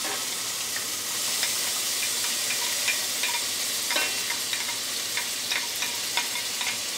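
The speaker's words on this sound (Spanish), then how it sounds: "Voy a hacer como un sofrito" Onion, garlic and peppers fry for a sofrito for Cuban-style picadillo, giving a loud, dense, continuous sizzle close up, with light ticking stir sounds scattered through it.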